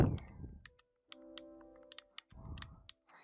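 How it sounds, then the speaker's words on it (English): Keys on a computer keyboard are tapped in a slow, irregular series of distinct clicks while naming a Minecraft world, with brief bursts of louder noise at the start and middle. "Yeah, I'm slow at typing"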